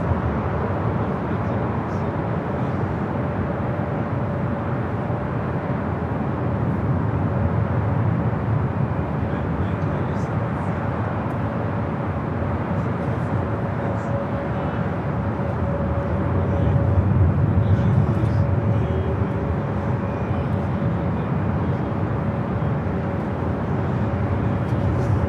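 KLM airliner rolling down runway 25 right at LAX for departure to Amsterdam, a broad steady engine roar heard from a distance that swells slightly partway through.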